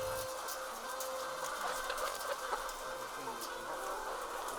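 Chickens clucking on a poultry farm amid a steady, faint background hum and patter, soft scattered clucks spread through the whole stretch with no talking.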